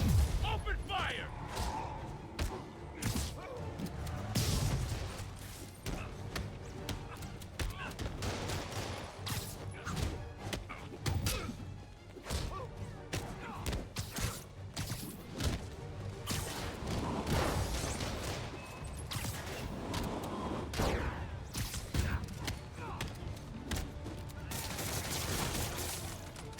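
Sustained gunfire bursts with whooshes and crashes from an enemy attack on a storefront robbery in Marvel's Spider-Man, steady and loud through the whole stretch under game music and voices.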